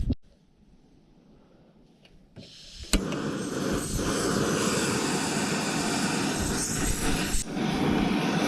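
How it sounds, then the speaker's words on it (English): A small butane burner heating lead sits quiet at first, then lights with a click and settles into a loud, steady broadband roar that holds to the end. "With this little butane burner,"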